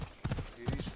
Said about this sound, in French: le temps que mon cheval arrive et que je saute dessus